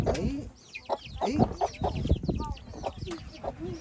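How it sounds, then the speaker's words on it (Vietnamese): Frizzle chickens, their feathers reaching down to the feet, cluck and chatter steadily at close range on a farm, with overlapping calls throughout and some faint background voices. "Đây là giống gà lông xù nha các bác."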